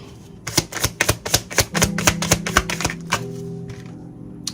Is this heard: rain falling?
no